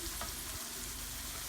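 Fresh organic diced tomatoes with red wine and a reserved anchovy-and-sardine pasta sauce in olive oil sizzle steadily in a pan, a continuous close frying hiss with no voices.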